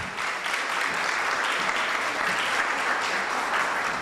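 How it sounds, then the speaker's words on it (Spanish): Sustained audience applause at a product safety conference, steady and dense throughout, welcoming a speaker to the stage. "Recibámoslo por favor con un fuerte aplauso."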